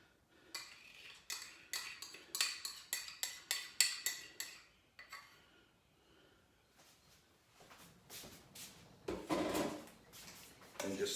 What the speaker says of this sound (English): And just stir it in.